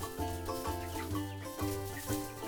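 Month-old young chickens cluck and peep in a close, busy chorus of short, overlapping calls, with no talking.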